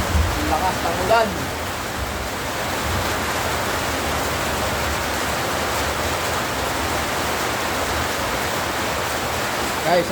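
Heavy rain falling steadily, a thick unbroken wash of hiss that stays level throughout, with a brief knock near the start.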